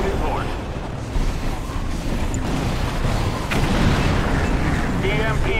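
Artillery bombardment in Command & Conquer: Red Alert 3 – Uprising, a dense continuous roar of overlapping booms and rumbling blasts that stays loud throughout, with game voices mixed in.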